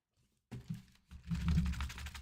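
Typing on a brand-new computer keyboard, a short run of clattering keystrokes that starts after a brief silence and grows denser and louder toward the end, close and without talk.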